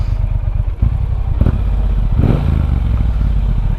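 A 2018 Triumph Bonneville T120 accelerates, its engine drone loud and close with a brief dip between gear changes before it pulls hard again, wind rushing over it.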